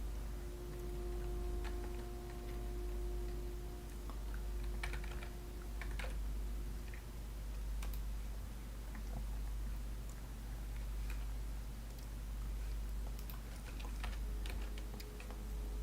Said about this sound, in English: let's start with just quickly typing out the options of reincarnates into my little notepad here